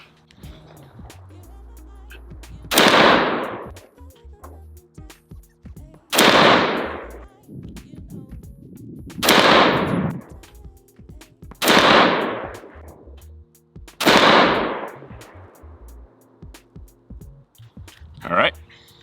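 Five loud, sharp rifle shots from a BCM AR-15 with an Enhanced Lightweight barrel, fired close by at a steady pace with a few seconds between each, every crack trailing off in a brief echo, with faint talk in the gaps.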